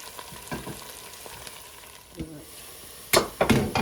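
Potatoes for Punjabi aloo gobi cook in a pan with a faint, steady sizzle, a few soft stirring scrapes, then louder clattering knocks of a utensil against the pan near the end.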